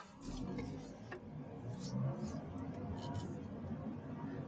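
A car drives along a road in the United States with a steady low engine and road rumble. Faint voices murmur underneath at a fairly low level.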